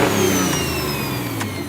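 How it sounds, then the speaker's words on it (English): A car engine with a turbocharger revs and holds at high revs, loud and close, with a faint whistle sweeping over the steady roar. "Go rev the car."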